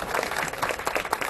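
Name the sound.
wedding guests applauding the bride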